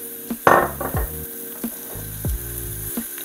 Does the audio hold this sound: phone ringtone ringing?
no